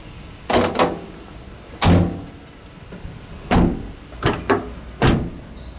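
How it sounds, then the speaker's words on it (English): Doors on a Toyota Land Cruiser LC78 thud shut one after another, five or six solid metallic closing thumps with short gaps between, loud and near against quiet surroundings. "listen carefully to the door sounds, the metallic effect."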